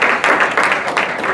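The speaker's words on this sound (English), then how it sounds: "you guys give your mom and dad a round of applause." Parents receive a round of applause at the Ledyard boys soccer banquet: a dense, close burst of steady hand clapping from the room, sounding alone without any talk.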